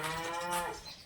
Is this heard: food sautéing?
no